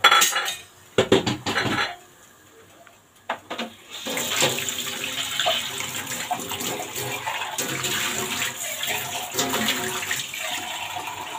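Water splashes and pours into a pot of pasta after a few clattering knocks of cookware, the gush running steady and close until the end.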